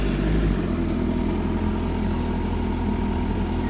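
A 2008 Kawasaki Concours 14 motorcycle with stock exhaust idles with a low, steady burble after a brief louder rev at the start, close by.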